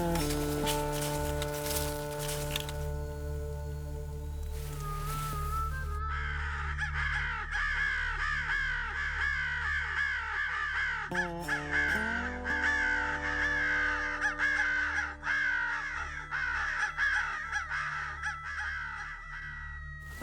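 Many crows cawing during a public land crow hunt in Kentucky, dense overlapping harsh calls that are loud and near and continue throughout, with a buzzing electronic tone underneath.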